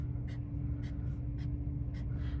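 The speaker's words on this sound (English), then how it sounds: "with the yellow, I'm going to draw just some straight lines" Five short, scratchy strokes of a yellow marker drawing straight lines across paper, evenly spaced, over a low steady hum.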